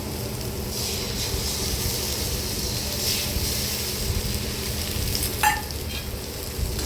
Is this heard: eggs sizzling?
yes